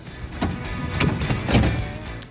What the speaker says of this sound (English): The second part of this switch operates the tailgate.